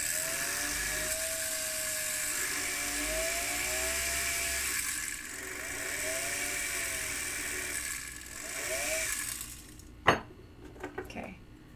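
A coarse silicone abrasive grinds and sharpens a tool bit in a steady whirring, scraping run with rising and falling pitch sweeps, then stops with a sharp knock and a few small clatters near the end.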